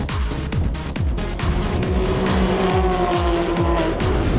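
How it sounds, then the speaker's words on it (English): Porsche race car at a KZN road racing round, heard from inside the cockpit: a loud, continuous engine roar with repeated rising rev sweeps through gear changes and a faint high squeal, no talking. "We're in the cockpit now with Dos Reis getting a feel what it's like to be inside that Porsche."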